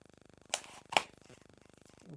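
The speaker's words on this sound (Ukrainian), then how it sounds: "Легенько розрізаємо його, щоб відкрити наш пакунок" A blade slices through the packing tape on a well-sealed parcel holding a commemorative coin, giving two crisp, close cutting rasps over a faint, steady ticking in the background.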